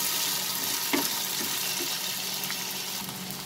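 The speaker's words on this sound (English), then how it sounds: "we'll add the ginger garlic paste. We'll saute this till the raw smell disappears." Ginger garlic paste sautéing with onions in a pan, with a steady broadband sizzle throughout and a few soft stirring knocks, alone with no talk.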